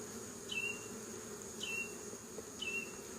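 Honey bees buzz faintly around an open hive during an inspection, a soft steady drone with three brief louder passes of a bee flying close, roughly one second apart.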